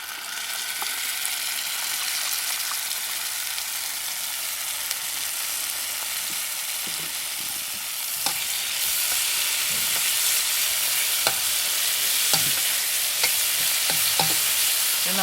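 Scallops, broccoli, red pepper and chili sauce stir-fry in a hot pan, a loud, steady sizzle with faint scrapes and taps of stirring throughout.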